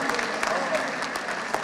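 An audience at an Urdu poetry recital breaks into a short burst of dense applause, with scattered sharp claps and faint voices mixed in.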